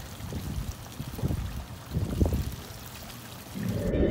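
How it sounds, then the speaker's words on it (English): Campo Chem holding tank treatment pours into an RV toilet bound for the black tank, a close liquid stream in a few surging glugs with a brief rising gush at the end. "About to pour some in the toilet now to be in our black tank."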